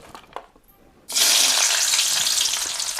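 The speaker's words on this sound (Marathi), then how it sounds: "तुम्हाला कांदा टाकल्या टाकल्या दिसतच असून तेल डायरेक्ट उकळी फुटली" Onion dropped into very hot oil bursts into a sudden loud, steady sizzle that fills the pan and keeps hissing after a quiet start.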